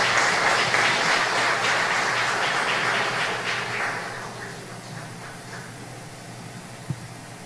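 An audience at a tribute ceremony for Belizean patriots applauds an honoree, a broad wash of clapping that holds strong for several seconds, then tapers to a faint tail with a single sharp knock near the end.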